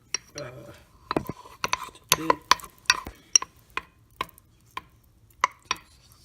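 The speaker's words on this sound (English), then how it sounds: "once you put in all the ingredients, you're going to want to whisk it a bit" Mug cake batter of flour and baking powder is whisked in a mug, producing quick irregular clinks and taps of a utensil against the sides, close and alone, with short gaps between strokes.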